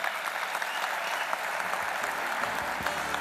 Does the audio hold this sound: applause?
yes